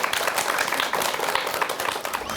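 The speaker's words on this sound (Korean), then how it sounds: "큰 박수 부탁드립니다." Lecture audience applauding a psychology talk on meditation, a steady dense wash of many hands clapping at close range, with no talk over it.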